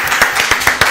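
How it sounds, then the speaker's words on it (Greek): Studio audience applause on a Greek television show, loud and close, with clear separate claps in a rough rhythm over a brief moment. "Χειροκρότημα εδώ από όλο το στούντιο"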